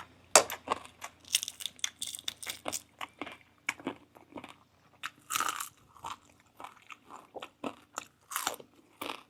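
Crunchy bites and chewing of crispy fried sun-dried tilapia, close up, with an irregular run of sharp crunches throughout and no talking.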